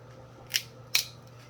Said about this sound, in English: So all we're gonna do is just cut the lobster out of the shell.